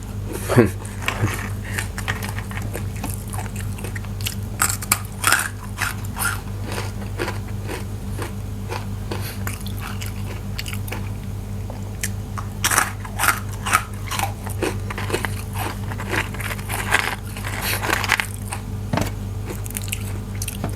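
Crispy baked vegetables are bitten and chewed up close in ASMR style, giving repeated sharp crunches and softer chewing between them, with brief breathy pauses.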